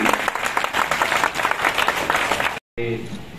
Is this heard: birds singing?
no